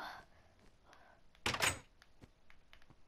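A door in Minecraft on PlayStation 4 gives a single short wooden thunk-like burst, loud and close against a quiet background.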